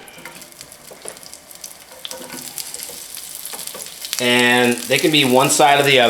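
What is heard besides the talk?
onions sizzling in hot oil in a pan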